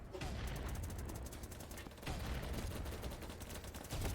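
Rapid automatic gunfire rattles in the online shooter BattleBit Remastered, a dense continuous fusillade of overlapping shots with a brief break midway, loud and sustained with faint voices underneath.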